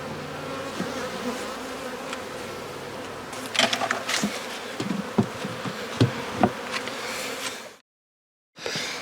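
Honey bees buzzing inside a nuc box, a dense continuous hum with scattered knocks and bumps of frame handling, close and steady before a brief silence near the end.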